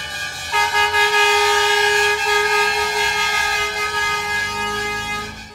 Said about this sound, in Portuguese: Quando chega a noite de 18 de janeiro, as buzinas dos caminhões avisam.